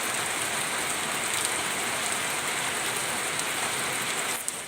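Steady rain pours down in a continuous, even hiss, moderately loud and close, with a brief louder patter near the end and no voices.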